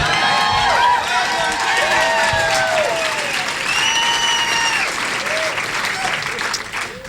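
Packed Howard Dean campaign rally crowd applauding and cheering steadily, with whistles and scattered shouts riding over sustained loud clapping for the whole stretch.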